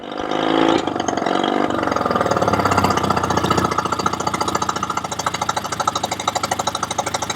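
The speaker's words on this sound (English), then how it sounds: "What I'm going to do is fire it up, listen to it, then I'll just disconnect one spark plug at a time" A car engine runs close up during a check for a vacuum leak, with a loud, steady, rough and rhythmic idle pulse that holds throughout without talk.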